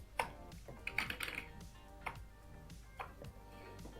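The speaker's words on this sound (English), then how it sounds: "everything good until I type Peter, John." Keystrokes on a computer keyboard, typed in a few short bursts of quiet clicks with pauses between, heard close and alone with no voices.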